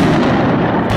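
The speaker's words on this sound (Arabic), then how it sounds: "مدفعية الفوزديكا، قصف عنيف على مدينة الرستان." Howitzer shelling during heavy bombardment of the town of Rastan in Homs, Syria, one loud, dense, rumbling blast filling a single second at close range.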